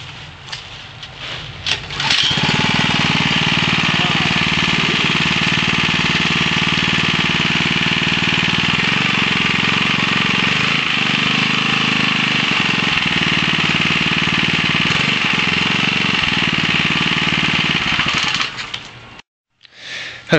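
A small engine driving a homemade engine/alternator generator starts up and runs loud and steady for about sixteen seconds, with a busy, even mechanical drone, then cuts off near the end.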